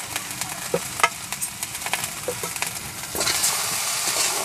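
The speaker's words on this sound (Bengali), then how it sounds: "সব মশলাগুলো ভালো করে কষে নেব।" Village-style egg curry spice paste of onion, garlic, ginger, cumin and coriander fries in a pan, with soft sizzling and repeated scrapes and stirs of the spoon, rising to a steadier hiss toward the end.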